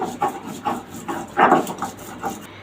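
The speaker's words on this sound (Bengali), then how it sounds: "এখন রসুনগুলো বেটে নিব খুব দ্রুত করে এখন এগুলোর মিহিন করে বেটে নিব" Garlic is ground by hand into a fine paste, a rhythmic rough scraping and rubbing repeated about every half second, close and moderately loud, without speech.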